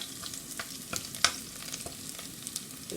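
Chopped onion sizzles softly in a frying pan for a Guyanese chicken pinwheel filling, with scattered light scrapes and taps of a spoon stirring it, one sharper clink near the middle, no talking.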